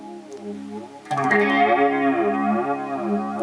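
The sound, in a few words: analog delay effect pedal with longer delay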